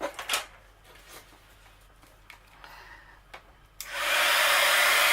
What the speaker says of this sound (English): I'm just going to use my heat embossing tool